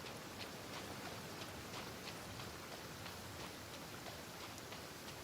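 Steady rain falls in the video game Genshin Impact, a faint, even wash of patter with light drop ticks and no break.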